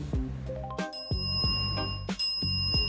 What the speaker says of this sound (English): Ring the bell twice.